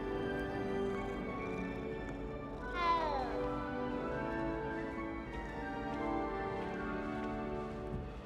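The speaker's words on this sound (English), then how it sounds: "Little kitty, kitty, kitty." A cat in Hogwarts Legacy gives a single clear meow midway, heard over steady game music and ambience.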